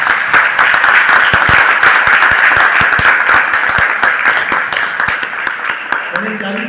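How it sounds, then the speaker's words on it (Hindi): Loud hall applause at a business meeting in Punjab, India, with sharp individual claps standing out of the crowd wash and slowly thinning toward the end, where a voice begins. "जोरदार तालियां।"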